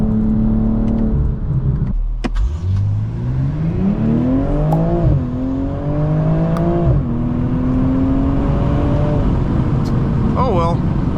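A 2024 BMW M240i xDrive accelerating hard, its engine note climbing through several gear shifts in a loud, rising sweep heard from inside the cabin, with people talking over it.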